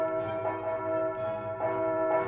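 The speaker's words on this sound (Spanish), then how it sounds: "Las campanas de catedral llamaban a la oración." Cathedral church bells ring out at dusk in a great colonial capital, calling the faithful to prayer, with a steady sustained toll carrying over two clear struck swells.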